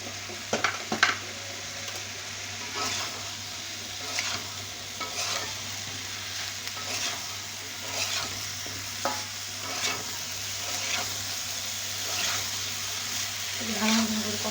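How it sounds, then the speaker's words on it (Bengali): Potatoes tumble into hot oil for aloo dum, giving a steady broadband sizzle with repeated stirring scrapes and clinks at a fairly regular pace. A low hum runs underneath, and no voices are heard. "এখানে আমি এখন আলুগুলো ঢেলে দেবো।"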